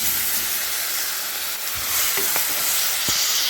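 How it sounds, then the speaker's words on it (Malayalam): Tomatoes sautéing in a pan with chili powder and turmeric for a curry, making a loud, continuous close sizzle with a few soft stirring knocks toward the end. "തക്കാളി നന്നായിട്ട് വഴറ്റുക"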